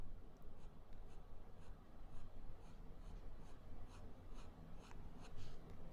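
A fine fountain pen nib, a Pilot Volex K5117, scratches lightly across paper while sketching, with soft intermittent strokes that are very faint and close against a quiet background hiss.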